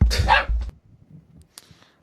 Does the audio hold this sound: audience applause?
no